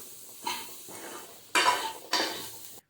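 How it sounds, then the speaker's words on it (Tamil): Spices with garam masala being stirred and sautéed in a pan for a jackfruit seed kurma, with scraping spoon strokes against the pan in several bursts over a faint sizzle. "போட்டு பச்சை வாடை போகிற அளவுக்கு கொஞ்சம் நேரம் நல்லா வதக்கி விட்டுக்கலாங்க."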